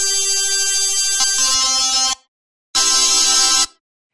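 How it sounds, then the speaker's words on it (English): Soloed synth in Ableton Live used as a vocoder carrier, holding a buzzy, harsh sustained chord-like note that cuts off, then returns for a second sustained burst before stopping; loud and alone, no voices. "you just want an instrument on there with a sustained note"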